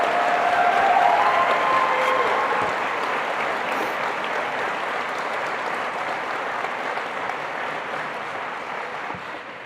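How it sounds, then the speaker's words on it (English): Sustained applause from a large audience at a law enforcement academy graduation ceremony, a dense steady clapping that fills the room and tapers slightly toward the end. "Join me in giving all of them another round of applause."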